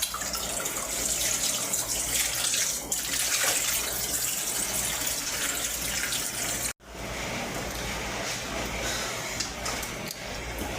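Tap water runs steadily over a whole raw chicken being washed at a sink, a continuous broad splashing rush that cuts out briefly and then resumes, with no voices.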